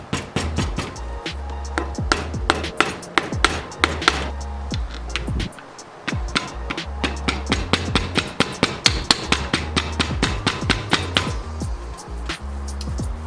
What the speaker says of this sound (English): Give a few taps with the mallet.